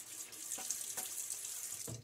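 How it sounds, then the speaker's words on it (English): Cold water runs from a bathroom tap into a sink during a wet shave, a steady soft hiss with faint splashes of hands cupping water, close and fairly quiet. "A little water on my face again."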